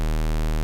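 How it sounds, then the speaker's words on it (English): A synthesizer square wave holds one steady, buzzy tone with a stack of strong harmonics, sounding alone for under a second before cutting off abruptly. "Oh, that's a square wave."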